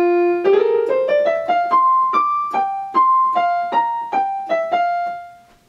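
A violin duet plays an evil theme shifted from its original minor into a major key, two bowed lines moving in stepwise notes with steady repeated pulses, clear and close with no talking.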